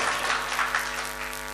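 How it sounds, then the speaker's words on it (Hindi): An audience at a mushaira, a poetry gathering, welcomes a poet to the microphone with warm applause. The clapping is sustained and full, with no voices heard over it. "तालियों की गूंज में इस्तकबाल करें।"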